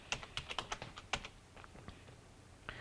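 Computer keyboard keys tapped out in a quick burst of separate clicks, then a few slower, softer presses, close and clear with no talking.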